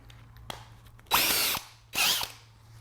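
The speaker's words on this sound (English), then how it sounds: "Now I'm going to put my countersink in." A power drill fitted with a countersink bit bores into pallet wood in two loud, steady bursts of whining, grinding noise, each roughly half a second long, separated by a short pause and preceded by a faint click.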